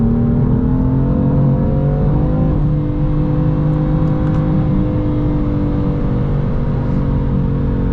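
A BMW M4 with a 3.0 turbo engine drones loud and close at high revs at full throttle, its pitch dipping briefly once before holding steady.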